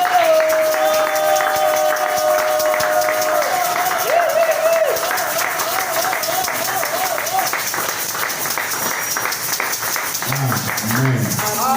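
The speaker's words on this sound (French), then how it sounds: "Applaudissements." A church congregation claps and cheers throughout, a dense wash of applause with voices and sustained tones above it, rising louder again toward the end.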